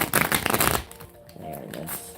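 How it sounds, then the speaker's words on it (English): A deck of tarot cards is riffled and shuffled in a quick, crisp burst of flutters, then quieter handling follows. "Let me shuffle."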